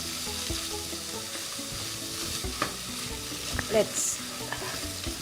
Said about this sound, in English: I'm going to add the prawns in now. Prawns have just gone in.